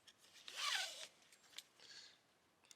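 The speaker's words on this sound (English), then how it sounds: "I'm just going to put it into the buckle to hold it for now for safekeeping." A tank bag strap is pushed into its plastic buckle, giving a short scraping, rasping slide followed by faint clicks and rustles, close and quiet with no voices.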